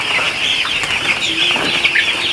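Chickens flap their wings in a flurry and cluck nearby, a busy rustling commotion.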